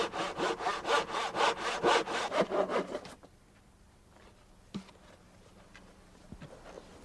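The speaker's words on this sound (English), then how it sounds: "Then mark and cut the lengths of tubing, adding 2 or 3 inches to each one" Tubing is sawn to length for deck or patio construction: about three seconds of quick, rhythmic back-and-forth saw strokes, close and fairly loud, then near-quiet with a few faint knocks.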